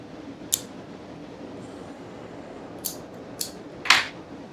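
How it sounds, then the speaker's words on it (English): A cigar cutter clips the head of a cigar in a few quick, crisp snips, close up against a steady background hum. "And give this thing a cut."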